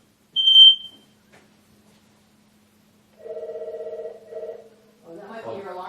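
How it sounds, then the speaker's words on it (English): A smoke alarm chirps once in a short, high beep, followed after a pause by a mid-pitched electronic buzzing tone in two bursts, then voices talk briefly. "That might be your alarm."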